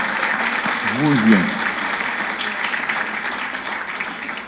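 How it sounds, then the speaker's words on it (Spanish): An audience at a colloquium on scientists who converted to Christianity applauds in a steady, dense wash of clapping that lasts the whole time, while a voice speaks briefly near the start. "Yo creo que le vamos a dar un aplauso a ella"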